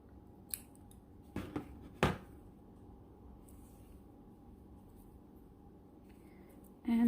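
Scissors snip through crochet yarn a few times, giving short, crisp cuts in a quiet room as a crocheted Barbie doll skirt and dress is finished and fastened off.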